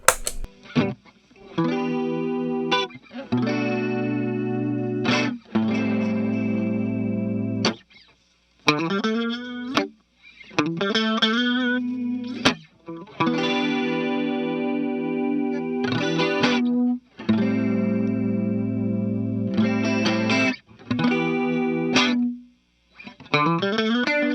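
An electric guitar played through chorus then compressor pedals plays chords and short phrases with a shimmering chorus wobble and evened-out, squeezed sustain, separated by brief pauses and occasional silences.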